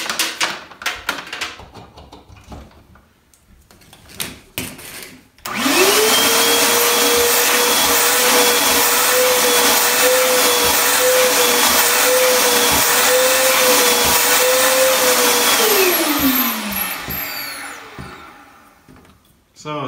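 A Ridgid shop vac starts with a thump and runs at a loud, steady whine for about ten seconds during a suction test, then winds down. Quieter handling noises and talk come before it.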